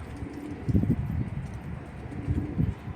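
Soft, low cooing from three young Mardin pigeons, murmuring in a few short bursts against a faint background hiss.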